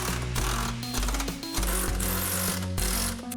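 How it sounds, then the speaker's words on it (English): Power tool ratcheting bolts while a fuel tank strap is reinstalled on a 2004 Dodge van, a loud close mechanical buzz in short repeated bursts with pitch shifts. "Reinstall your tank strap."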